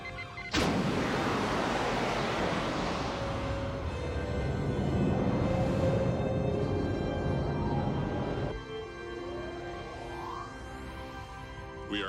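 Sci-fi spaceship shuttle bay decompressing: a sudden loud burst of rushing, roaring air that sustains as a broad hiss, then drops off abruptly into a quieter electronic hum with a rising tone.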